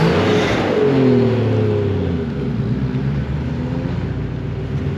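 Ford V6 Mustang engine revving, a loud close roar that swells in the first second and then settles to a lower steady rumble, with no talk.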